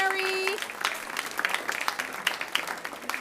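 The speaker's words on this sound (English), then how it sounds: "let's do a round of applause to our volunteers, Kathy, Tim, Mary." An audience at a group meal applauds volunteers, with scattered claps building into a steady round while a voice is briefly heard at the start.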